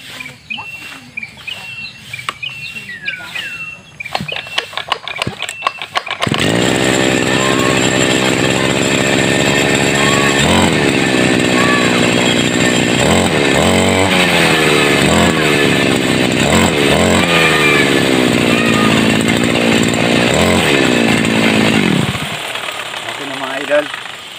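A grass cutter engine with a repaired clutch spring sputters at first, then starts and runs loud and steady at a high buzzing pitch for most of the clip before cutting back near the end; some talk comes before it catches.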